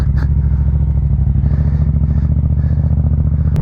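A motorcycle fitted with an MIF aftermarket exhaust idles loudly and close, a steady deep throb with a clattering edge and a brief sharp blip near the end.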